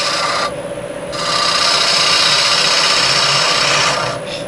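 Metal lathe on Axminster button jaws cutting at just over 900 RPM, a loud, steady, bright rasping whine that dips briefly, rises and holds, then eases near the end, close and without talk.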